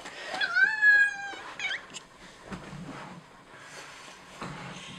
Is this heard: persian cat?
yes